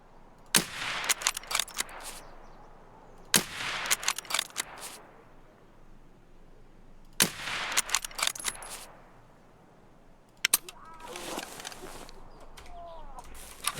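Gunfire in the game Escape from Tarkov (SPT), loud bursts of several rapid shots in three clusters, then a sharp pair of shots and rustling movement.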